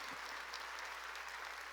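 Steady applause from a church congregation during a Sunday worship service, a continuous wash of clapping that stays even in loudness from start to finish.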